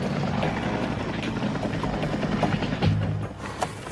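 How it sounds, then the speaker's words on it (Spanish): Reconnaissance helicopters flying over Area 51, a steady loud rotor and engine drone filling the whole stretch with no one speaking. "Helicópteros y aviones de reconocimiento han estado vigilándoles."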